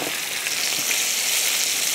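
Breakfast bacon sizzles in a pan with fried potatoes for a German Bauernfrühstück, a dense, steady crackling hiss that stays loud and unbroken throughout.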